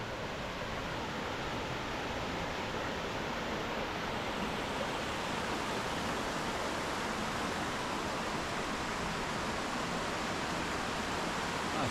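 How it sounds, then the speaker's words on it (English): Ouzoud Waterfalls in Morocco, the tallest falls in North Africa, give a steady, dense roar of falling water that stays even and broad throughout, heard from nearby with no voices. "in front of the waterfalls to enjoy the sound and the water"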